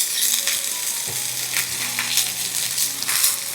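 Garlic and ginger fry in a pan with onion, a close, hissing sizzle that runs throughout, while a few soft scrapes of stirring come and go. A short low clunk of the utensil sounds midway, and no one speaks.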